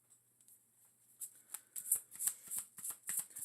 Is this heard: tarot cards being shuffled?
yes